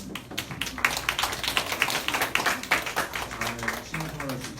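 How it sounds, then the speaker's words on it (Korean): Welcome applause from a Korean church congregation during a Sunday worship service, a few seconds of light, irregular clapping of moderate loudness with some voices speaking under it. "우리 환영의 박수 한번 드리겠습니다."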